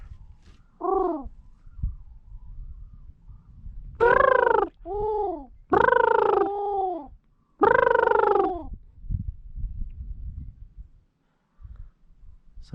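Cranes circling over a Wyoming duck-hunting field give loud rolling, bugling calls in several separate bursts, with quiet gaps and faint outdoor background between them.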